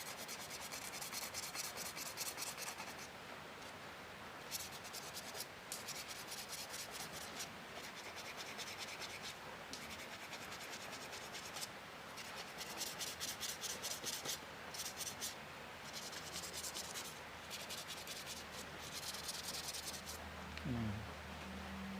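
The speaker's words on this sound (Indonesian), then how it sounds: "Ini juga diamplas." Sandpaper rubs over a cowhide leather arrow rest fitted to a bow handle, making steady, close, rhythmic scratchy strokes that repeat in bursts for about twenty seconds.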